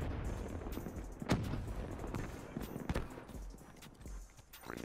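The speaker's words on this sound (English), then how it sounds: "Somebody threw a grenade." Combat in the shooter Black Ops 3 multiplayer, with a sharp blast standing out amid scattered gunshots and battle noise, a second loud crack following a moment later.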